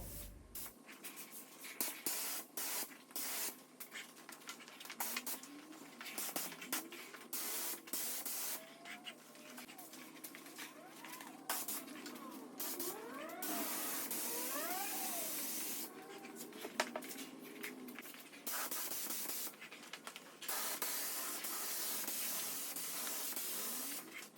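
A spray gun lays a light coat of paint on a VK Commodore front bumper and grille, a steady close hiss in long bursts with brief breaks between passes, running alone without talk.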